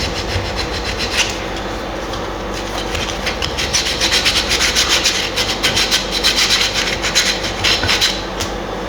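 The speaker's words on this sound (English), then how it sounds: "So I'll do more on that with the finer grit sandpapers." A wooden sanshin head is sanded by hand with sandpaper, giving steady close scraping strokes in a rough continuous rhythm that grows slightly louder toward the end, with no talking.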